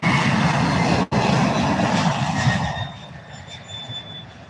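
An aircraft on flight 5972 to Portland, Oregon, at SDF airport gives a loud broadband engine roar that briefly cuts out for an instant, then gradually fades as a faint whine lingers.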